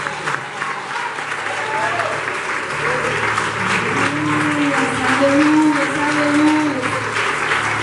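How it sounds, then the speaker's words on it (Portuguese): Church congregation applauding through a night worship service, steady clapping with tonal voices and sustained sounds rising over it. "Só quem crê, aplauda e glorifica."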